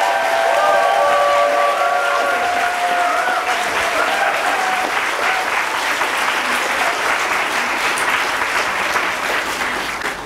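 An audience applauds the cast of an elementary school musical, a loud, sustained wash of clapping that holds steady for the whole stretch and fades slightly at the close.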